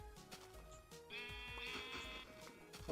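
A sheep in Minecraft gives a drawn-out, wavering bleat against faint background game sounds.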